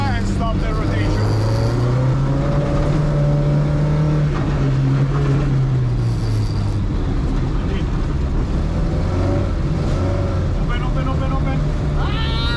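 Car engine revving and straining while sliding on a snowy track during pendulum-swing (Scandinavian flick) driving practice, steady and close throughout, with pitch rising and falling as the throttle changes, voices talking over it at times.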